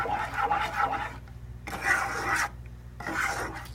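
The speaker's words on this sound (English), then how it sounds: "Hope you can hear me over my stirring." Three long scraping strokes of a spoon dragged through thick Kentucky butter cake batter in a pot, rasping and close, with short pauses between them.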